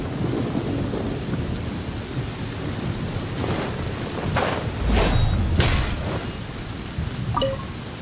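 Steady rain and thunder in Genshin Impact, a continuous downpour with several sharp thunder cracks and a deeper rumble in the middle, loud and alone.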